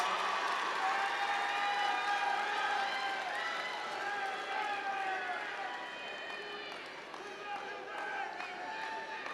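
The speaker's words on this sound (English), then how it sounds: "Let's give them a loud round of applause." A large commencement crowd at Southern University gives sustained applause mixed with cheering and whoops, a dense, continuous wash of sound that slowly fades slightly toward the end.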